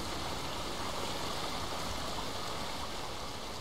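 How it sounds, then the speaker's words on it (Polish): A waterfall in the video game Rime pours in a dense, steady roar of rushing water that stays constant throughout, with no voices. "a jaki ładny wodospad"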